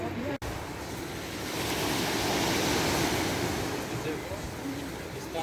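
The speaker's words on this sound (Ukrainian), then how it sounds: "Сьогодні хвилі на морі були після обіду і зараз воно таке бурхливе." Rough, choppy sea waves on the Croatian coast near Podgora, a steady roar of surf swelling and easing, with wind mixed in and no talk.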